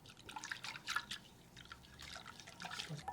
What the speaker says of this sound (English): In a pot, I'm gonna add some rice flour and some water and just stir until all the flour is dissolved.